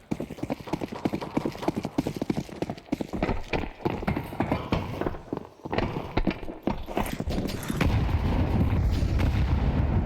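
Several sharp blasts and rapid impacts go off in a Counter-Strike match, including a double grenade explosion, followed by a sustained low rumble building toward the end, loud and busy throughout.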